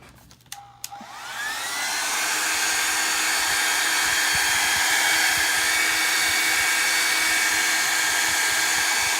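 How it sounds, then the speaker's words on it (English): A blow dryer is turned on after a brief click and runs steadily, drying a craft transfer on a painted background. It holds a loud, constant whoosh with a faint whine and no talk. "I'm going to hit it with a blow dryer because I don't want the transfer to peel up any of this"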